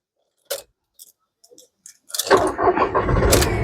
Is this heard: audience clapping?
no